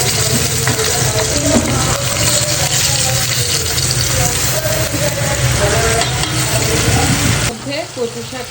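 Steady, loud sizzling of fish frying with cumin in a pot, with faint scraping as it is stirred, easing off near the end.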